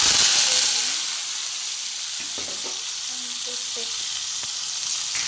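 Potatoes sizzling and frying in hot oil in a pan, a steady close hiss with occasional light stirring clicks, no talking.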